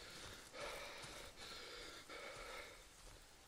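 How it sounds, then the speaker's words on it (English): Heavy rasping breaths in the horror game Darkwood, three or four long hissing exhales in a steady rhythm, close but faint and breathy. "Heavy breathing right in my ears."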